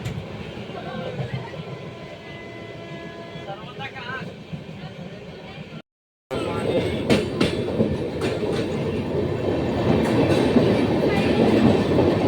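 A passenger train runs on rails with a steady rumble, then after a brief gap a louder rolling clatter with repeated clickety-clack beats continues, heard from inside the carriage while a person talks over it.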